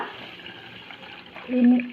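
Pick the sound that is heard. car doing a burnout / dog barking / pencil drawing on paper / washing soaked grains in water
washing soaked grains in water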